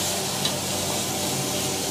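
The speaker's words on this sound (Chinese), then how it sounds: "他已经开始炒菜了，现在啊。" Stir-frying in a small, no-frills Chongqing eatery kitchen: a short burst of continuous wok sizzle with faint scraping, moderately loud and steady, with no one speaking.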